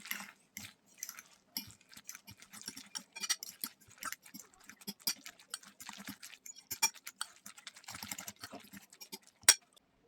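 A spoon stirs a bowl of grated zucchini fritter mixture with crab sticks, cheese, salt and a little pepper. It gives quick, uneven scraping clicks and soft wet taps, close and fairly quiet, with no talking.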